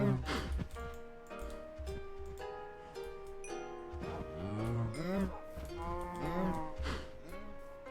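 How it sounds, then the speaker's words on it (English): Minecraft cows mooing in a loud, bending, pitch-gliding series from about four to seven seconds. Steady game music with sustained tones plays underneath throughout. "Oh, cows."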